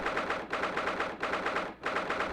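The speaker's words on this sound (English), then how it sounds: "They brought Ryunosuke to the shooting range." Rapid automatic gunfire at a shooting range in The Great Ace Attorney Chronicles, in continuous bursts broken by two brief pauses, loud and unbroken like a game weapon firing.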